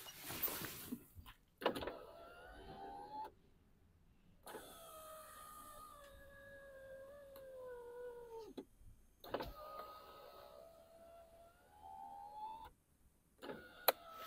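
The front passenger electric window on a VW Polo whirs up and down in several separate strokes, each ending with a soft clunk, with quiet pauses between runs.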